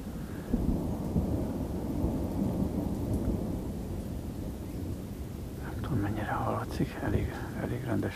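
Low rumbling thunder rolls continuously under steady rain during a big storm on a river, with a few brighter patters and splashes near the end.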